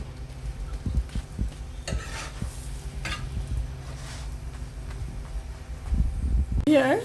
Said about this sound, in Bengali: এভাবে করে আমি সবগুলো পাটা ভেজে নিব